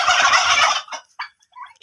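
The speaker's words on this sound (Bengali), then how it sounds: "নিজেদের টার্কি" Farm turkeys gobble loudly and close up in a dense, rattling burst, followed by a few shorter, fainter calls trailing off.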